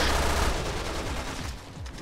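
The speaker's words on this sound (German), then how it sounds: "Warte, guck, wir schießen gegen die Wand." Rapid gunfire from the video game Resident Evil Revelations 2, shots fired against a wall in a dense, loud burst of overlapping reports that keeps up for the whole moment.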